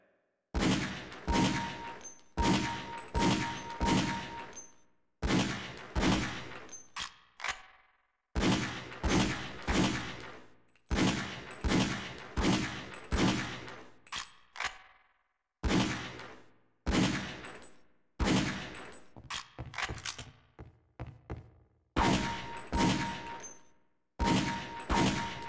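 Repeated pistol shots at a firing range in Half-Life: Opposing Force, fired in quick bursts of several sharp cracks separated by brief pauses, loud and close with clinking metallic rings between volleys.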